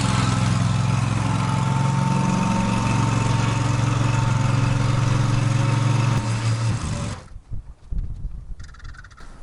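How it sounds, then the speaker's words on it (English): A Hustler zero-turn mower engine runs loud and close with a steady drone while the mower is moved, then cuts out near the end, leaving quieter, scattered background noise. "We're gonna move the old mower out, put it over there where she belongs"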